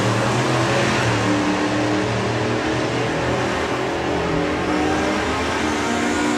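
Justin Woolner's hot rod drag racing car accelerating hard down the strip at a hot rod drags event, a loud, sustained engine roar with deep rumbling harmonics that holds steady throughout.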